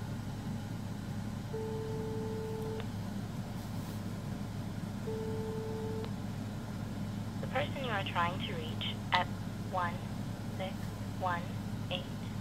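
A mobile phone on speakerphone places a call, sounding two long electronic ringback tones with a pause between them, followed by a voice speaking over a low background hum.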